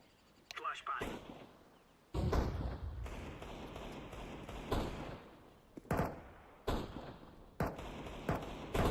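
A Counter-Strike 2 flashbang goes off in a sharp, loud burst, one of several heavy bangs and thuds in a busy match, each followed by a short decay, with speech mixed through.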